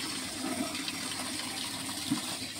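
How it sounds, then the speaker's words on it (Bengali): Water runs steadily onto plants on a rooftop, a constant close rushing and splashing flow with no voices. "আর দেখো মামার ছেলে গাছে জল দিচ্ছে"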